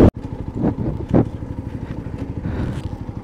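A motorcycle passes on the road while overtaking, its engine a close, pulsing putter rising in brief surges over a steady idle-like rhythm.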